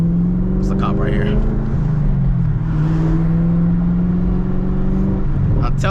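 A supercharged Camaro ZL1 with a 6-speed manual pulls hard on a highway, its engine drone rising through a long gear with a steady supercharger whine, a brief dip mid-pull as it shifts, then climbing again close and loud from inside.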